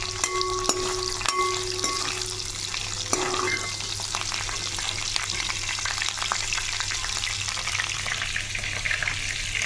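Fish fries in a pan with a continuous crackling sizzle throughout, with a few sharp clinks and stirring scrapes near the start.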